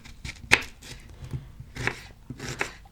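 A knife chops two onions into large pieces on a cutting board, giving a few distinct, separate thuds with crisp crunching at an unhurried pace.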